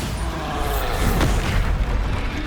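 A Bombarda spell explosion in the Hogwarts Legacy video game, a loud, close boom with a broad rumbling blast that sustains and fades slowly.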